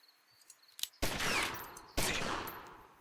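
Shotgun blasts in the PC gangster strategy game Omerta – City of Gangsters: two loud, close booming shots about a second apart, each with a long rolling decay, after a quieter lead-in with a faint click.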